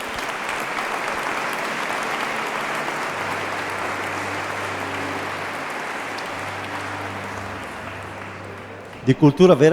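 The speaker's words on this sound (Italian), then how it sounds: "Io direi un applauso di affetto ad una persona di cultura vera" Audience applause at a concert by a group of soloists in Col San Martino, Treviso: steady, dense clapping from a crowd that holds for about nine seconds, with a low tone beneath and a voice breaking in at the end.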